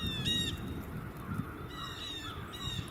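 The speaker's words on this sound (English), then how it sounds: "These crows are engaging in a behavior known as gritting." Crows caw in a few harsh, separate bursts, with short gaps of quiet outdoor background between the calls.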